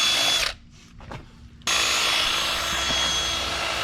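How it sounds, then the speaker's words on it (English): A power drill bores a hole during work on a 1982 Kawasaki KZ550 motorcycle, a loud steady whir running through most of the clip, broken by a brief near-silent pause before it resumes. "that's the tightest hole he's ever drilled"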